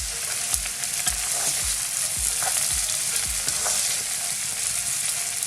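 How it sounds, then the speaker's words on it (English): Veggie couscous stirred and mixed in a pan, with lumps broken up, a constant hissing sizzle and regular rhythmic scraping strokes of the spoon, close and steady with no talk. "I'm just gonna break all and try to mix it all, everything together properly"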